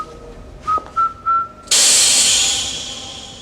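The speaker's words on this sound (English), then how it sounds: "the whistling keychain from The Living Daylights" Three short rising whistle bursts, like the James Bond whistling keychain from The Living Daylights, are followed by a loud sustained hiss like escaping gas that slowly fades.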